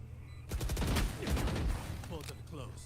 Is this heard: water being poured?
no